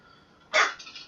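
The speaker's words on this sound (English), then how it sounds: "Sorry, dogs are going nuts." A single sharp dog bark rings out near the microphone, followed by a fading tail.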